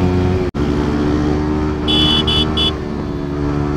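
Bajaj Pulsar NS400Z and Yamaha R15 V4 race in a drag run, a steady loud engine drone with a brief dropout, then a short burst of high buzzing tones.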